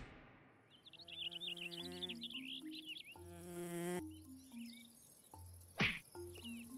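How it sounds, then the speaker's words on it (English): A mosquito whines and buzzes in a malaria-themed animated scene, its thin drone weaving over a light musical bed before a sharp slap lands near the end. "We wait for the mosquito to land, then we go for it."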